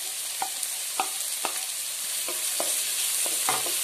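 Sliced ginger, garlic and curry leaves sauté in a pan for pork vindaloo, a constant sizzle broken by regular spoon scrapes and taps against the pan.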